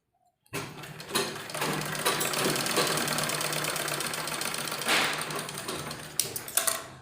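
A sewing machine stitches a doubled red fabric strip onto a kurti, starting abruptly after a brief silence and running in a fast, continuous mechanical rattle, slowing with a few uneven knocks near the end.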